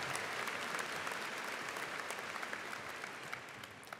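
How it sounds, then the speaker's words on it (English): A large graduation audience at a high school ceremony applauds steadily, a dense, continuous wash of clapping that holds at a fairly even level throughout, fading slightly toward the end. "We can keep clapping for them."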